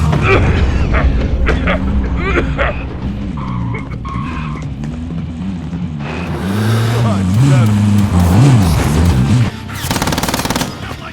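A truck driven in the video game Warzone, with a loud engine, tire skids and revving that rises and falls, mixed with bursts of gunfire and game voice lines.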